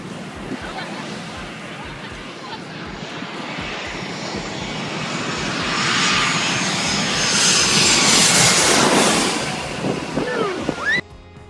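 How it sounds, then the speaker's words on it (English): An airplane comes in to land close overhead, its engine roar swelling to a loud peak before easing off, ending in an abrupt cut. "Standing that close to a landing plane must take some huge guts."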